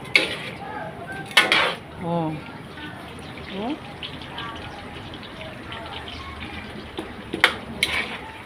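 Fried sweet potato being stirred in a pan, with scattered scraping clinks of the utensil against metal and a low sizzle underneath, while a voice talks over it at intervals.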